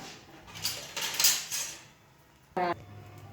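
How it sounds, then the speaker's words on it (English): A rolled oat-flour paratha stuffed with filling is set down on a hot pan, giving a brief clatter of cookware and a short, close sizzle-like burst near the end, with quiet moments between. "After heating, put the rolled stuffed roti, that is paratha, and roast the paratha."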